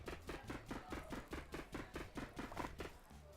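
Chopping food in Overcooked, a quick, steady run of about a dozen evenly spaced knife chops, fairly faint and alone.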